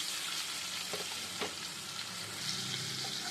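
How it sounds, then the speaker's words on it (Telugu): Onion pieces frying with cashews in a pan for a paneer masala curry, a soft continuous sizzle with a couple of brief stirring clicks, fairly quiet and close. "ఇప్పుడు ఆనియన్స్ని కొంచెం వేగనివ్వాలండి"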